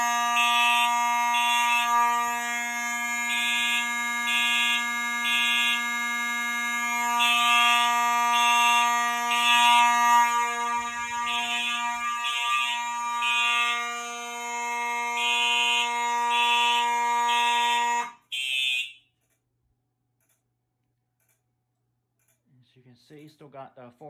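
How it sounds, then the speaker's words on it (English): A Fire-Lite MS-9600UDLS fire alarm system sounds after a BG12L pull station is pulled, loud rhythmic horn pulses over a steady tone that cuts off abruptly near the end, followed by silence and faint talking. "now we're gonna go ahead and pull the BG12L"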